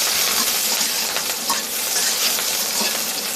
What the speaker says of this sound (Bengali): পেঁয়াজ মরিচ ভাজতেছি।